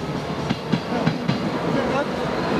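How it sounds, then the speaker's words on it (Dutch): A train rumbles past with rhythmic clickety-clack wheel beats, a steady low roar throughout and several sharp rail clicks spaced about a quarter second apart. "Dat is de trein die ik had moeten hebben."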